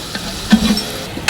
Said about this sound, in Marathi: सुरुवातीला बटाटा फ्राय होत आहे.